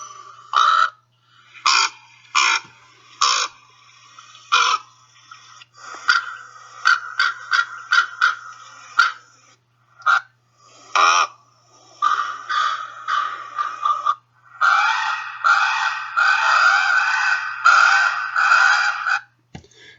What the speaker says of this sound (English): And those last ones are actually calls of fledglings.